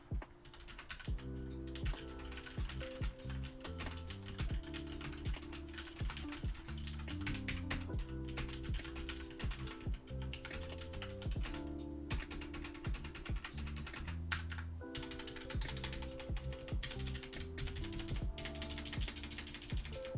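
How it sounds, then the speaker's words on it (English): Typing on a KBD8x MkII hotswap mechanical keyboard fitted with Boba U4T switches, a dense run of clacky keystrokes with no talking. "Let's just do a quick typing example."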